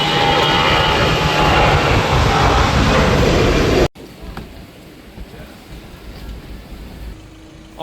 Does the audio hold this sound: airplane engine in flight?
yes